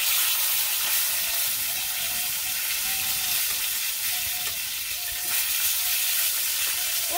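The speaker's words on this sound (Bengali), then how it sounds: "মাছ ভাজা হয়ে গেছে।" Fish, a large catch, sizzling steadily in oil in a pan, a dense constant frying hiss with no pauses and no voices.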